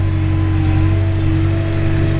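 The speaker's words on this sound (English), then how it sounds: "This is Finn in the tractor." A tractor engine running while loading out feed for sheep on a farm, a loud, steady low drone with a constant hum and no gaps, heard close and without talk.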